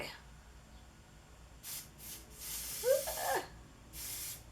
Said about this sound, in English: I think I'm just going to spray it directly onto my skin, onto the brush